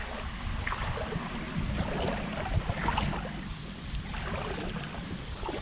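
Water runs steadily along a creek or roadside ditch near a big city, a continuous broadband rush with soft bubbling flutters, fairly close and unbroken, with no voices.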